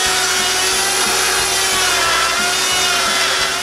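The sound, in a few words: circular saw cutting bowed wooden boards straight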